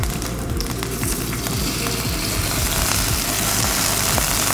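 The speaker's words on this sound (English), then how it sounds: "We're gonna sear it in our pan with a little bit of oil" Canadian bacon sears in a little oil in a hot pan, giving a steady, dense sizzle that holds even and close throughout, with no talk over it.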